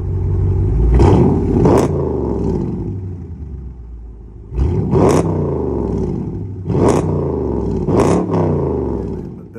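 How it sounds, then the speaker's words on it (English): A 2019 Dodge Charger R/T with Carven TR mufflers, resonator delete and factory X pipe revs hard several times, throaty roaring rises and falls in three or four surges over a low idling rumble, loud and close. "I know you want to hear me rev this thing up, so let me go on ahead and push this gas for you"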